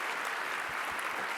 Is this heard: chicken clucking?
no